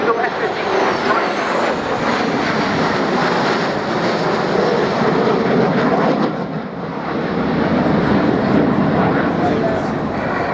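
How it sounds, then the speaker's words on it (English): Three F-15 Eagle fighter jets, a pair of F-15Cs and one more F-15, roar past at the RIAT airshow with a loud, continuous broadband jet rumble that swells and dips slightly while voices talk underneath. "Now we have our 3 Eagles, a pair of F-15Cs and a single F-15"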